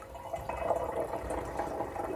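Water slowly filling a household container by hand, a steady soft rushing and trickling that holds at a moderate level for the whole stretch without talk.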